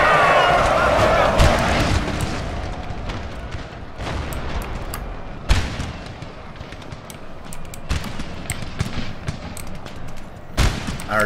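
Artillery and musket fire in a Napoleonic-era battle in Napoleon Total War, with scattered booming cannon shots and crackling volleys over a continuous battlefield rumble.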